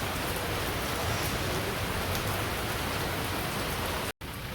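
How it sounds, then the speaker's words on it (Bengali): Steady rain falls over a rural village, a dense, even hiss that runs continuously at moderate loudness and cuts out briefly near the end. "এই যে পাশে বৃষ্টি ধান পড়ছে"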